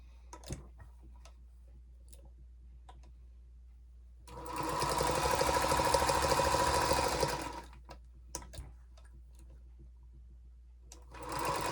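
A sewing machine stitching a charm pack quilt block runs in one steady burst of about three seconds, framed by quiet handling clicks and ticks before and after.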